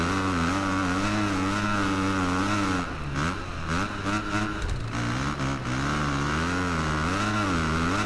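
A stock 250 motocross bike in the video game MXGP 2021 produces a continuous, rising and falling engine whine, shifting pitch with brief dips mid-clip and no voices.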